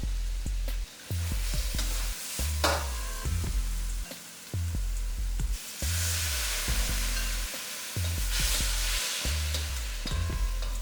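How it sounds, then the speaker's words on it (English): Loud, close sizzling as chilies hit a hot pan with broccoli and cauliflower in a stir-fry, with the hiss broken by repeated stirring and tossing scrapes. "Go ahead and toss your chilies in."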